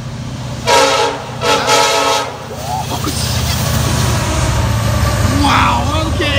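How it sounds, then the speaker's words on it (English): A Penn Central locomotive leading a BNSF train sounds its LLA horn in loud, close blasts, two short honks followed by a long sustained chord over rail rumble, with voices faintly underneath. "That might be the best horn so far."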